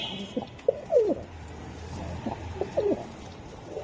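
Budapest racer pigeons coo softly in a few short, rolling bursts, two clearer phrases standing out over a faint background murmur with no talk.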